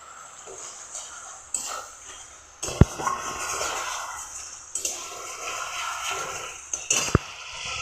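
A spice masala with whisked yogurt is stirred in a pan, giving intermittent scraping and sharp metallic clinks from the spoon, with a soft sizzle underneath and no talking.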